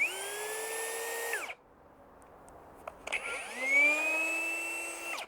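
A cordless hammer drill whirs loudly, winds down to near silence, then spins up again with a rising whine, close and with no talking.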